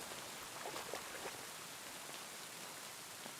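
Steady rain falls in Kingdom Come Deliverance 2, a soft continuous patter with no other sounds rising above it.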